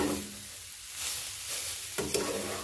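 Grated potato is stirred in a frying pan, giving a steady broad sizzle with soft scraping, close and moderate in level, ending in a brief sharper scrape.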